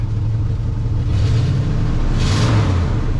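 A 1963 Pontiac Catalina engine rumbles close and loud, rising in two quick revs over its steady running note.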